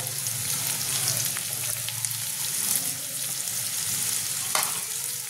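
Capsicum and cabbage for chowmein frying in a pan, a steady close sizzle with soft stirring scrapes throughout, no talking.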